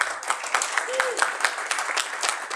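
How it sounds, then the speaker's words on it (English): Steady crowd applause at a furry convention opening ceremony, many hands clapping continuously throughout, fairly close and full. "big round of applause for Tekrin, guys."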